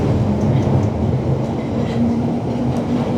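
A graffitied National Rail train rolls along the tracks in central London, giving a steady, close rumble with faint metallic rattles and squeaks over it and no pauses.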